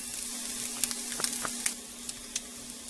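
Pork chops fry in a pan with no grease, giving a quiet, steady sizzle with occasional light pops and clicks close by, with no voices.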